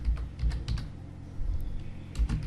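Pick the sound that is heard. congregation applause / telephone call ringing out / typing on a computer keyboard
typing on a computer keyboard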